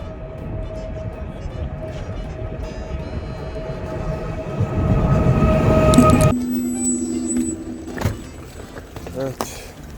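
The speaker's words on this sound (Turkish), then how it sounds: "Şimdi hızlı trene binip Taşkent'e geçeceğiz" A high-speed train at Samarkand railway station hums with steady tonal whines and rumbling, swelling in loudness before cutting to quieter mechanical clicks and whirs, with people talking in the background.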